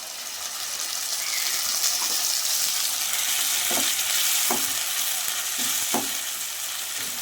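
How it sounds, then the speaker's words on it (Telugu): A loud, continuous sizzle of masala for roadside-style sherva frying in a pan, with a few soft scraping stirs breaking through the hiss. "కొంచెం వేగనిద్దాం దీన్ని"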